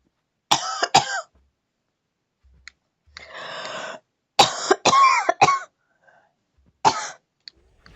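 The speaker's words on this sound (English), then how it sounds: "I had to cover up my microphone real quick because I had to cough" Several separate coughs from a person playing Minecraft, loud and close, in short bursts of one to three with pauses between, plus a longer rough throat-clearing sound in the middle; no talking.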